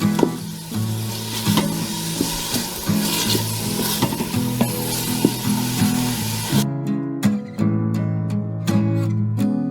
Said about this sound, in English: I'm gonna add the onion and the turkey sausage. Then we're going to just let that cook